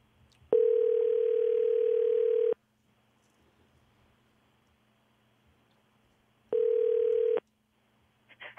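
A telephone rings on an outgoing call to a radio listener during a live French-language broadcast. Two electronic rings sound, a steady two-second tone and then a shorter one after a long pause, with a faint low hum under both.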